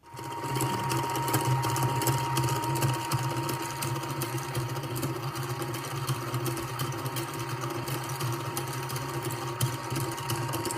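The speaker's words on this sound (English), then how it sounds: "Mum has bought me a new ball winder, and she's going to demonstrate now," A new yarn ball winder being cranked gives a steady, rapid mechanical clatter that runs continuously and evenly close by throughout.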